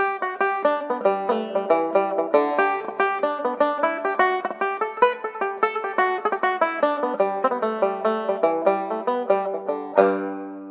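A banjo plays a fast jig, bright plucked notes tumbling in a rolling, bouncy rhythm, ending on a ringing strummed chord.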